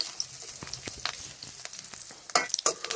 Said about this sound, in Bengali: দেখতে পাচ্ছেন যে আমাদের পেঁয়াজটা ভাজা চলছে